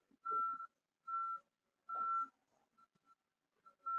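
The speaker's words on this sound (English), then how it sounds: "Please excuse the beeping in my background." Several steady electronic reversing beeps from a construction vehicle repeat at an even pace, a single clear tone sounding in regular pulses with quiet gaps between, moderately distant.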